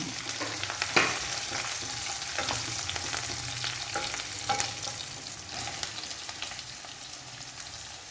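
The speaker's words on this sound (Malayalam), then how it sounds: "ഇനി സവോള ഇട്ട് കൊടുക്കാം" Sliced onions sauté in hot oil with curry leaves, a loud, steady sizzle and crackle broken by occasional stirring scrapes and clinks, with no talk.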